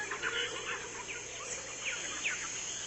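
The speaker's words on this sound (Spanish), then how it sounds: "podemos escuchar entremezclados los gritos de los monos, trinos de pájaros y reclamos de todo tipo" Birds call and chirp in a river jungle, several short calls scattered over a steady hiss of forest ambience, moderately distant and without speech.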